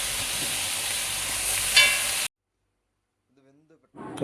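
Cumin seeds hit hot oil for a tomato chutney, a loud, dense sizzle lasting about two seconds before cutting to silence, with faint speech afterward.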